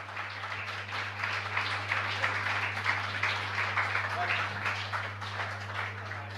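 Moderate applause from a gathered religious audience at a Jain discourse session, steady and continuous throughout, set back somewhat in the room over a constant low electrical hum.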